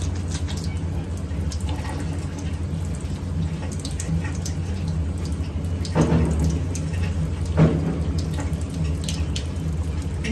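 Water running while something is washed: a continuous splashing stream from a tap, with a couple of louder gushes partway through.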